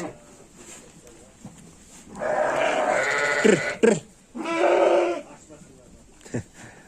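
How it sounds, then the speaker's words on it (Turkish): Lambs bleat in two drawn-out, wavering calls close by at a mountain house, with quiet talk and a laugh around them. "Kuzular burada."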